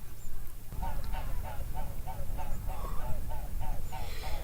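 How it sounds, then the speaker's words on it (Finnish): Swans calling as they fly past in a Finnish outdoor camp setting, a run of about a dozen evenly spaced honking calls over a steady low wind-like rumble, fairly close and clear with no talk. "Muutamia joutsenia tästä lentänytkin ohi ja niistä lähtee kyllä makea ääni."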